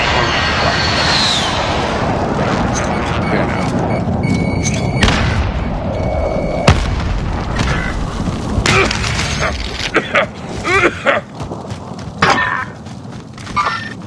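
Aircraft roaring through a Call of Duty precision airstrike, a loud sustained engine rumble with heavy booms and thuds layered over the battle noise, later breaking into scattered impacts.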